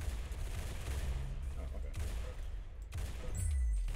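Rail gun fire in the Roblox game Arsenal, a few loud, sharp shots with booming low-end bursts amid constant game noise, with a voice speaking briefly over it.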